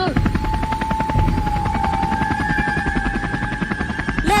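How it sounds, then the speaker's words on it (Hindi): A helicopter sound effect plays in a comedy sketch, a loud rapid rotor chop with a steady whine that holds throughout the short burst. "मैं बोला था ना कि मुझे हेलीकॉप्टर उड़ाना आता है।"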